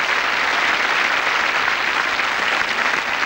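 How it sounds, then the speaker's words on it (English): Dense, even applause from a 1984 television game show studio audience, loud and continuous with no voices over it. "Give them a round of applause, make them feel happy."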